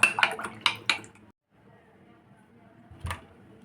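A spoon clinks and scrapes against a cup while cocoa powder is stirred into hot chocolate, several sharp metallic taps up front, then quiet, then one more clink near the end.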